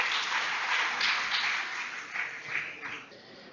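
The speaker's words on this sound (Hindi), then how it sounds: "मैं आप सबसे आग्रह करूंगा कि तालियों की गड़गड़ाहट से उनका स्वागत करें।" An audience welcomes a speaker at a lecture on the Vagbhata sutras with sustained clapping, dense and fairly loud, swelling in bursts before tapering off toward the end.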